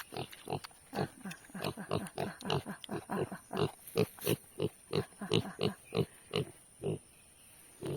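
A pig grunts repeatedly in quick, rhythmic bursts, close by, with short pauses between snorts.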